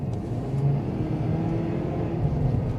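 A 2019 Ford Edge 2.0 EcoBoost crossover accelerating, its engine a steady, fairly loud rumble and whir heard from close by without any voices.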